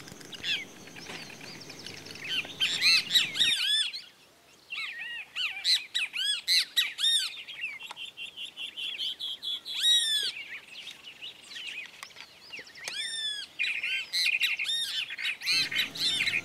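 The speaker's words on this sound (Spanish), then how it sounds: "En lo alto de una rama se luce un suirirí real" A tropical kingbird perched high on a branch in Argentine scrub woodland gives repeated sharp, twittering squeaky calls in bursts, fairly close and clear, with a quiet gap partway through and no talk.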